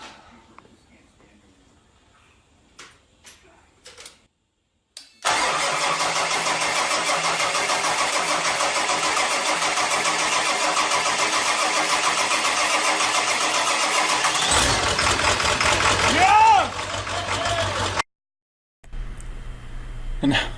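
A 7.3 Powerstroke diesel in a Bronco build truck cranks for a few seconds, then catches and runs loud and steady at close range, with a brief rev near the end. A voice speaks softly beforehand.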